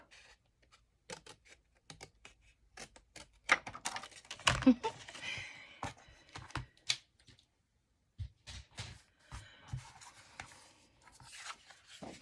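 Scissors cutting straight across a junk mail envelope, a string of quiet crisp paper snips and rustles, close and intermittent, with a short pause partway through.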